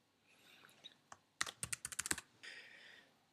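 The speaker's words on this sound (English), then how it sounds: "As I'm typing in the data" Data goes in on a computer keyboard: a few scattered keystrokes, then a quick burst of about a dozen crisp, close clicks before a softer trailing tap, in a quiet room.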